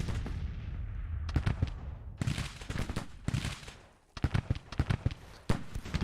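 Regiments firing musket volleys in the American Civil War strategy game Grand Tactician, a steady crackle of overlapping shots and booming reports, some near and some distant, broken by a brief lull before renewed ragged firing.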